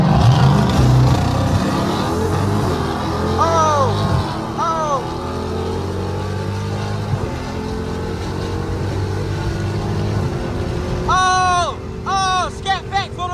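A Dodge Scat Pack and an SRT8 accelerate hard on a freeway, heard as a loud engine drone from inside the car with rising and falling pitch sweeps as gears change, while people talk over it.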